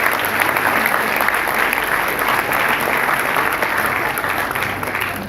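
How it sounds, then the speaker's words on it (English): Audience applause at an annual prize distribution programme, loud, dense and sustained clapping from a large crowd throughout, steady without pause. "Please clap hands for all the contributions given by the heads of the departments."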